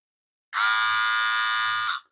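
An HJP D8 hair trimmer with its blade fitted runs in a short burst, a steady, fairly quiet high-pitched electric buzz that switches on abruptly and cuts off after about a second and a half.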